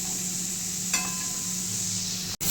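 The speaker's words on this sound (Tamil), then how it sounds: "வெங்காயம் நல்லா வதங்கிடுச்சு." Onions sauté in a pan for an egg omelette gravy, giving a steady close sizzle, a light metallic clink from a utensil partway through, and a brief cut just before the end.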